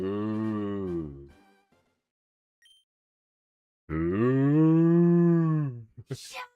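A cow moos twice, with long drawn-out lowing calls separated by a silent gap, loud and close.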